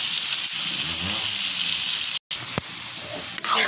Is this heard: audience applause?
no